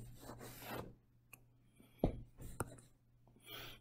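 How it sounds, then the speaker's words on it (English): An eraser rubs writing off a classroom board in a chemistry lesson, producing faint, uneven scrubbing strokes with short pauses and a couple of sharper knocks. "Let's erase these and do another one."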